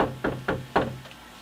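Three firm knocks on a door, evenly spaced and close, followed by a fainter fourth tap, with no voices.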